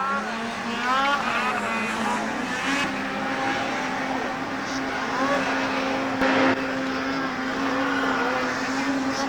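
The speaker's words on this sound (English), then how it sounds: "Third place right now is the 10 of Tim Edelman going to turn 1" Race cars lap the Rock Maple Racing Circuit at Haystack on a foggy December day, their engines droning loudly and steadily, with pitch sweeping up and down as cars accelerate toward a turn and pass by.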